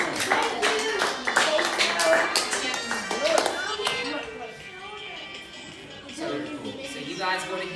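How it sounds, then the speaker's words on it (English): An audience gives a round of applause at a talk by a game company creator, with dense clapping that thins out after a few seconds and picks up again briefly near the end. "Alright, can we give Jesse and Miss Anna a round of applause"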